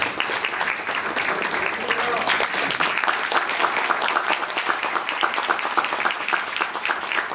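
Sustained audience applause at a college speech event honouring a former student on Goswami Tulsidas Jayanti, dense steady clapping from a large crowd filling the whole stretch without letting up.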